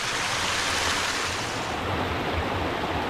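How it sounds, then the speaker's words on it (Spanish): Clear water of the Río Alaminos in Málaga province rushes over rocks in a jungle-like gorge, a loud, dense, unbroken roar of flowing water, close and steady throughout. "los sonidos del agua me llenan el alma de vida"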